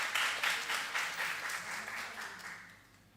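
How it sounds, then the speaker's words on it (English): At a youth forum debate final, the audience claps for the four finalists with a bright, close round of applause that starts strong, has a pulsing texture, and gradually fades. "Clap on yourselves and clap them."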